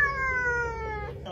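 A house cat gives a single drawn-out meow, close and clear, that slides downward and then cuts off.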